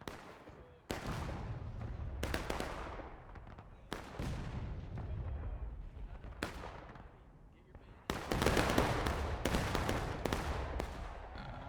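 Musket volleys ring out in a large War of Rights battle at Piper Farm: several sharp, loud crashes of massed fire, each trailing into a long rumbling decay, with a dense sustained barrage near the end.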